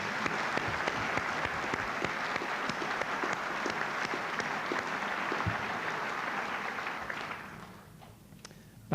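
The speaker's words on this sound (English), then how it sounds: "Shall we have a general applause break for those candidates?" Sustained applause from a university graduation ceremony audience honoring degree candidates, steady dense clapping for about seven seconds before fading out abruptly.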